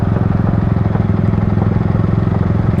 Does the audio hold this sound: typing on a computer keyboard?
no